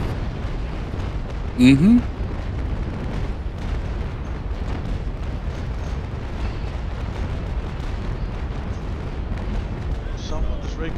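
Naval cannon fire from the Naval Action sailing-warship game gives a loud burst of booms early on, then a low rumbling battle din continues while players talk over voice chat.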